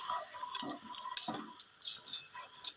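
A spoon stirs turmeric and spices into a karela (bitter gourd) and onion mixture, producing soft, close scraping and light clinks against the dish at an irregular rhythm, quiet and with no talking.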